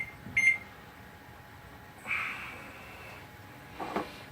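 A kitchen timer is set for four minutes: a few short electronic beeps from its buttons, spaced apart in a quiet kitchen with a low background hum.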